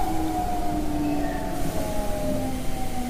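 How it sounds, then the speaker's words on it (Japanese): A commuter train pulling into a station on a Japanese railway line, heard as a steady rumbling roar with sustained tonal whine rising over it, continuous and fairly close throughout. "お、電車来た。"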